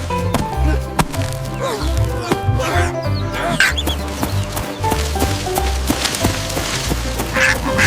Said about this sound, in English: Chirp! Quack! Quack!